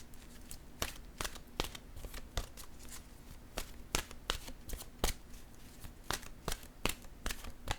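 Oracle cards shuffled by hand, giving crisp, sharp slaps and riffles in an uneven rhythm, close and clear with no talking.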